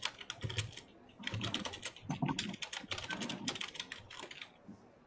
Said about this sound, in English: Loud typer.